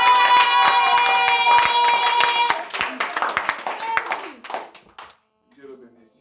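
Congregation clapping and cheering during a church service, dense rhythmic hand claps under sustained singing or shouting voices that thin out and fade toward the end.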